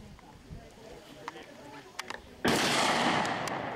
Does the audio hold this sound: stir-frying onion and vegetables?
no